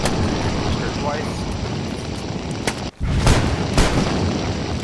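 Gunfire aimed at a poltergeist in DayZ StalkerZ: a few sharp, loud shots spaced apart over dense rumbling noise, with a brief cut to near silence between them.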